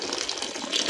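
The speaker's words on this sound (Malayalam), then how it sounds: "ആവശ്യത്തിന് വെള്ളം ചേർത്ത് കൊടുക്കുക." Water poured into a ground fish curry masala of coconut, chilli, coriander and turmeric powders, heard as a steady close splashing gush for under a second with no talk.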